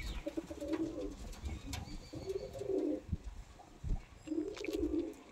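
Kasuri Kalsira pigeons give repeated low, throaty coos in three bursts, close by, over faint thumps, wing rustle and a little background noise.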